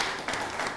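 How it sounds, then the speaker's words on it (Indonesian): An audience applauds at a Kuda Lumping folk art talk show, giving brief, fairly soft clapping from a crowd in a short burst. "tepuk tangan untuk beliau ya"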